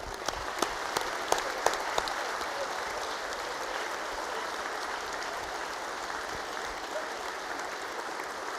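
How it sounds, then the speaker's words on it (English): A crowd applauds steadily, the clapping dense and sustained at an even level throughout. "Now we can clap."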